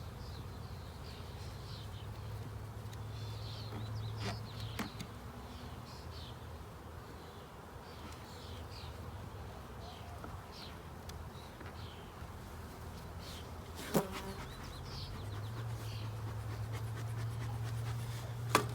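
Honey bees hum in a low, steady drone during a beehive inspection. Scattered brief buzzes pass close by, and a few soft knocks and clicks of handling sound through it, with no speech.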